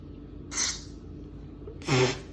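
Cooking oil spray hits a muffin tin in two short hissing bursts about a second and a half apart, close and fairly loud, with a quiet room in between.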